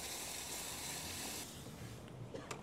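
Hot water hisses and sizzles as it is poured into a pan of spiced tomato masala for a village-style chicken paya bhaji, a soft steady rush that thins after a moment into faint bubbling crackles.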